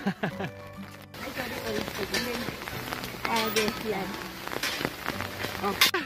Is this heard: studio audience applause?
no